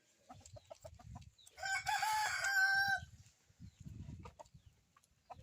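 Roosters crowing and chickens clucking among a farm flock that includes Rhode Island birds: one loud, close crow in the middle, framed by rhythmic low clucks before and after, with no talk.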